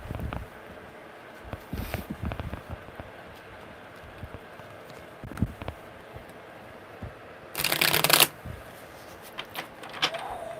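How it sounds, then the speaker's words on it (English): A quick, crisp riffling burst of tarot cards being shuffled close by stands out against quiet rustling and light handling noises. "Okay, one more good shuffle"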